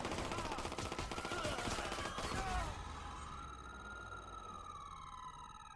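Rapid automatic gunfire in the video game Watch Dogs 2, a sustained dense burst of shots that cuts off partway through, leaving a fainter ringing tail.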